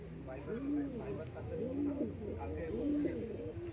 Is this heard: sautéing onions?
no